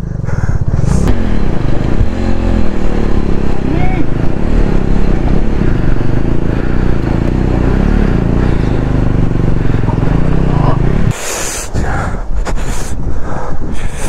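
A motorcycle stuck mid-crossing in a cold-water mountain stream on the ride toward Kunzum Pass revs hard and continuously close by, with brief breathy exclamations and a short drop in engine sound near the end.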